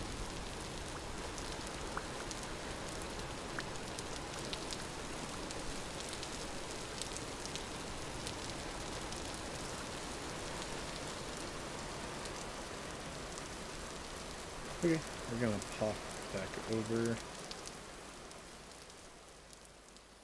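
Rain falls steadily in the video game Vintage Story. Even, continuous pattering hiss holds throughout, and someone speaks briefly over it near the end.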